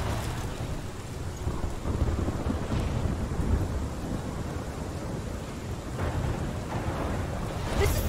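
Steady rain and low rumbling thunder fill a storm scene in the video game Life is Strange, a continuous dense wash with a brief rise near the end.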